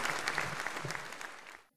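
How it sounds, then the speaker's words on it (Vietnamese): Buddhist lay followers at a retreat break into a short burst of applause, a full, steady clatter of many hands that fades out quickly at the end. "Xin cho tràng pháo tay quý vị Phật tử."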